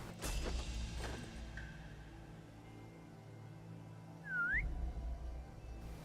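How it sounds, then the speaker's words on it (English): A game character in Assassin's Creed Chronicles: China gives a short rising-and-falling whistle, clear and alone over a low ambient game background with a few thumps and whooshes earlier. "now we're just whistling at corpses"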